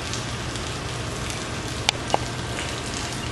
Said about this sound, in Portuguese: Acho que tá chovendo aqui